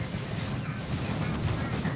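Heavy bolter fire in the Dawn of War 2 strategy game rattles in dense continuous bursts, fairly quiet and mixed with distant battle booms beneath commentary.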